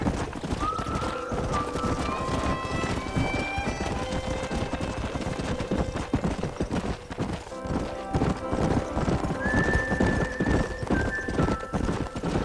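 Horse hooves clip-clop steadily while a horse neighs and whinnies several times, loud and close in the Western video game Red Dead Redemption, with some voices and game sounds in the background.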